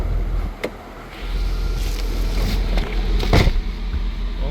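A 2003 Chevrolet Corvette C5 50th Anniversary coupe is driven, its engine a low steady rumble inside the cabin with a few sharp clicks and brief whooshing bursts rising over it, no talk.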